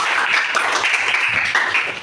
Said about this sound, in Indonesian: Sekali lagi kita aplaus, kasih tepuk tangan untuk kita semua